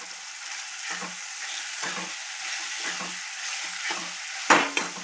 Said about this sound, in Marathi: चांगलं तेलात फ्राय होऊ द्या बघा, चांगलं तेलात.